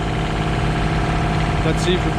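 A marine diesel engine under repair drones continuously at full throttle at a constant pitch, loud and close, with a faint voice briefly audible near the end.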